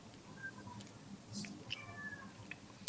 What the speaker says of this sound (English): So if you hear a meowing in the background and a cat walk right in front of me